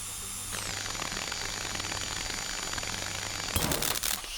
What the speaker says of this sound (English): Drill on. Let's get drilling.